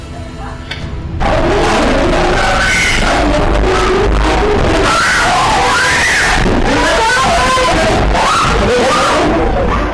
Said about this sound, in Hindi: लेकिन चीख पुकार ने जरूर आपके अंदर भी दहशत फैला दी होगी।